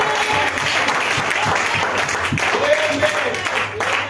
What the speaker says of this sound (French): Acclamez le Seigneur. Let's clap to the Lord.